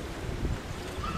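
Steady, strong warm southerly wind roaring and buffeting, a constant broad rush with low rumbles throughout.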